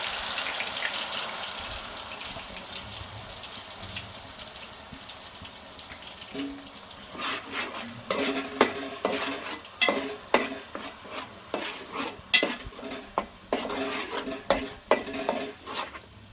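Spice masala frying in hot oil for a chicken curry, starting as a fairly steady sizzle, then giving way to rhythmic scraping and clattering stirs against the pot that grow busier and louder, heard up close.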